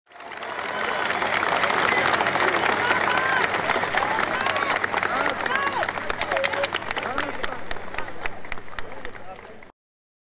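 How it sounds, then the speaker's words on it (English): A large outdoor crowd at a 1964 civil rights march cheers and applauds continuously, dense clapping and voices sustained at full loudness for most of the clip before cutting off abruptly. "leaving only the sounds of cheering and clapping during and after the speech"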